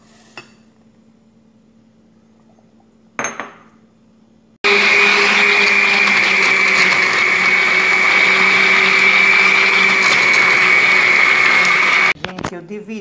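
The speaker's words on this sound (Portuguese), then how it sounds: "a metade da massa que eu bati no liquidificador com a macaxeira" A blender mixing cassava cake batter runs loudly and steadily for several seconds with a high whine, preceded by quiet background and a brief clatter.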